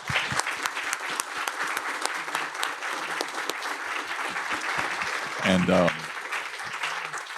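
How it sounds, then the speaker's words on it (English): A conference audience applauds the panelists at a sport and human rights event at UConn, a dense, steady clapping that runs the whole length, swelling slightly near the end. "A round of applause, if you don't mind."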